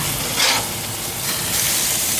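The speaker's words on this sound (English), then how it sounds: "I like to keep flipping the meat because I don't want it to get too burnt" Meat sizzling in a pan while being flipped and cooked, a steady close hiss with brief louder bursts and no talking.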